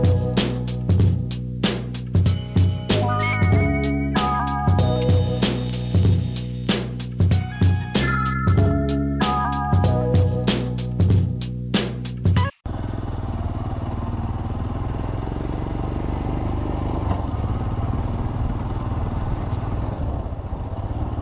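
A motorcycle with about 23,000 km on it being ridden on a slippery road; after a stretch of music, a steady, close engine roar mixed with wind rush runs on without a break.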